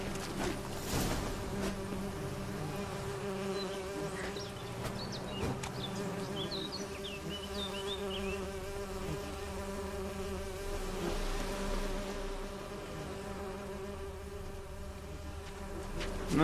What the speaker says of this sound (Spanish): No entiendo lo de las abejas estas.